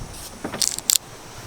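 Car keys jangle in a few quick metallic bursts inside a Ford Mustang, close and brief against a quiet background.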